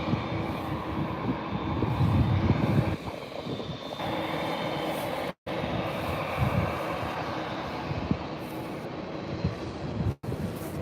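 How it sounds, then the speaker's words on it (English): A Boeing 787 taxiing at Birmingham airport, a steady low engine rumble and whine mixed with wind buffeting on the microphone, heard from a distance with no talk. "These beautiful 787's about to taxi down in front of us."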